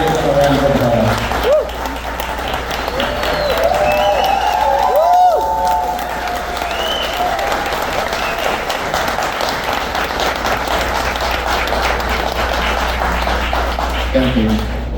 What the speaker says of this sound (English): I'd like to ask them to stand so we can give them a round of applause